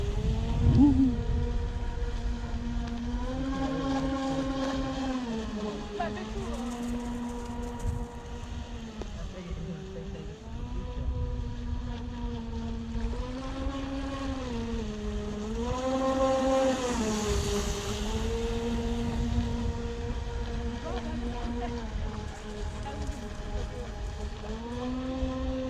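A Navicraft Rebel 8S RC boat speeding across the water, its electric motor whining in a steady high tone that rises and dips repeatedly, with water rushing beneath, moderately loud throughout.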